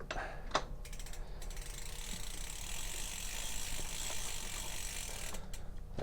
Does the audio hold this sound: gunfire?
no